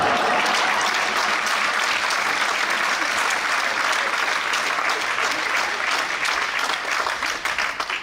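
An audience at a stand-up comedy show, the RIR O Centre 2018 performance by comedian Aymeric Carrez, breaks into dense, sustained applause that stays loud and steady for about eight seconds before thinning slightly at the end.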